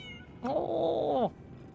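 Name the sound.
cat meowing and purring in video game Lies of P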